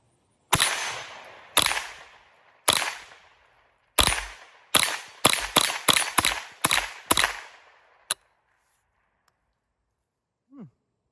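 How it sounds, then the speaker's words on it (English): A Savage A22 .22LR semi-automatic rifle fires eleven sharp, close cracks, spaced out at first and then coming in a quicker string, followed by a faint click and a short soft noise near the end. "let's go ahead and take some shots with this A22 right here"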